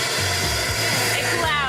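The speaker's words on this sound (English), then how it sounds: "We'll end up turning on a vacuum." A loud, steady motor whine of a vacuum cleaner running nearby, with a faint low pulsing beneath it.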